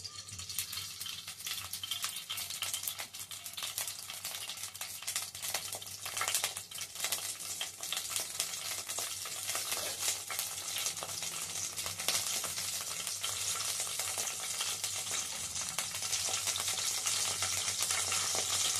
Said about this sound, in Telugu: ఫస్ట్ ఆయిల్ వేసుకోవాలి